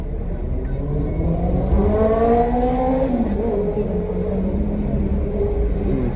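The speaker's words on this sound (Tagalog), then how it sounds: "traffic." Road traffic rumbles loudly and steadily nearby, with a vehicle engine rising and falling in pitch as it revs or passes.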